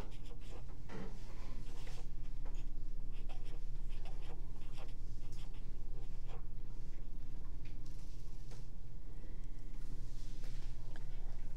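Students in a classroom write answers on paper during a lesson on moon phases. Steady, close scratching of pen or pencil strokes runs throughout over a low room hum, with no talking.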